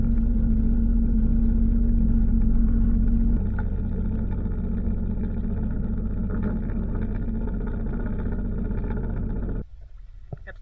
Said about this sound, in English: Just now, the second boat has come up behind us.